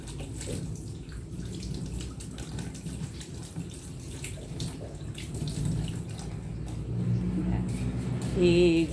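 Chili peppers being washed under a running kitchen tap, a steady splashing rush of water with some clatter and background noise, growing slightly louder near the end.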